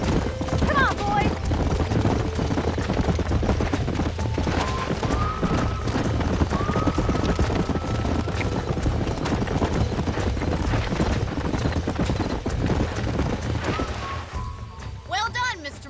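Hooves pound rapidly in a continuous galloping rhythm, several horses running close together in the video game Red Dead Redemption (2010), with a whinny and voices calling over the din.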